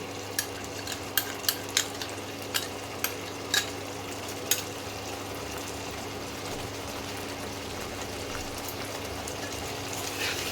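Ginger garlic paste fries in a pan on an induction cooktop for Banarasi mutton, a steady loud sizzle with several sharp spoon scrapes and clinks early on, then continuous frying.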